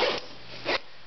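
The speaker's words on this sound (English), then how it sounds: "So zipping this pocket back up" Zipping up a pocket on a Gregory day pack, two quick rasping zipper pulls close by, the first at the start and a second shorter one near the end.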